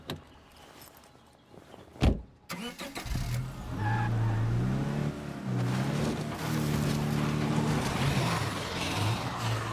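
Car in the video game State of Decay 2: a door thud and engine start, then a mid-pitched engine revving and shifting as the vehicle drives off, steady and fairly close with no talk.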